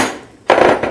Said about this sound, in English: smack down with the hammer.